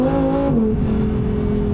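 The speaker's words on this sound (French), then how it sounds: "ça a fait sauter le moteur, enfin les régimes moteurs, parce que du coup ça cherchait la traction" The V10 engine of a 640-horsepower rear-wheel-drive sports car drones loudly from inside the cabin. Its pitch shifts as the revs jump and then settle after the car hits a bump on firm suspension and hunts for traction. No one speaks.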